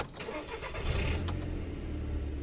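A car engine restarts after being switched off, with a short cranking burst and then a steady low idle rumble, close and fairly loud, with no talking.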